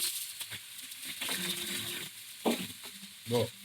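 Skin sautéing in a pan for homemade noodles, a soft steady sizzle with scraping stir strokes and a few louder clatters near the end.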